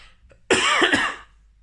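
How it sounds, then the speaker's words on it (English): One big, loud cough close by, a single forceful burst with a rough tail, following near silence. "I'm just about to do a big cough."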